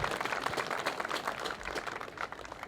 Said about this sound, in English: please a round of applause for our umpires and officials today